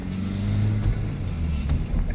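A Toyota MR-S with a swapped-in 2ZZGE engine, light flywheel and limited-slip differential cruises slowly, giving a steady low engine drone with road rumble from inside the cabin.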